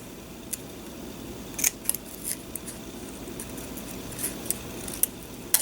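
Scissors cut paper into small triangles for craft planner dashboards, giving quiet, close snips scattered over a faint background hiss with several crisp clicks in short bursts.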